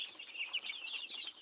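Chickens on a farm, two weeks old, giving a steady run of soft, high clucks and chirps, close and continuous with no talk.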